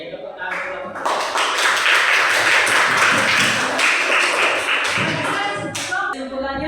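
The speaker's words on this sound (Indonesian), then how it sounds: "Baik, tepuk tangan kelompok." Classroom of students applauding a group during a school religious-education lesson: a burst of dense, close clapping that builds, holds for several seconds, then tapers off with a few final claps.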